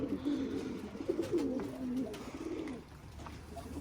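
Domestic pigeons coo in low, throaty rolling calls, repeated several times at close range over a faint background hiss; there is no clear sound of wings.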